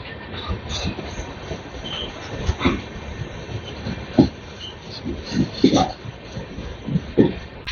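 Hawra–Prayagraj Vibhuti Express rolling past on a crossing at Dadpur halt near Jhajha at night, a steady rumble of railcars with rhythmic wheel thumps and clanks spread through the pass, moderately loud and close.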